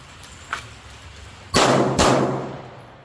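Two pistol shots from a SIG P320/P365X during defensive handgun training at about eight yards, sharp and loud, roughly half a second apart, after a few faint clicks and handling noises.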